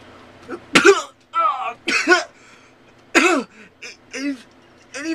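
Man with a sore throat coughing and clearing his throat at a close microphone: a series of rough, raspy hacks and throaty rumbles in irregular bursts, some voiced and drawn out, separated by short silences.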